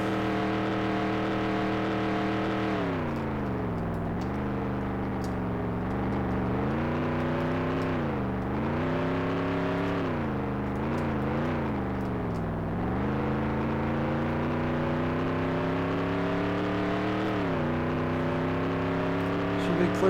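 Race cars roaring around Watkins Glen in NASCAR 98, a steady loud engine drone rising and falling in pitch through gear shifts and corners, continuous throughout.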